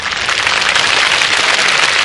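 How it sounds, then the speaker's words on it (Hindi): Dense, loud applause from a large crowd at a religious satsang gathering during the Prayagraj Maha Kumbh, a continuous even wash of clapping throughout. "अब बजाओ तालियां।"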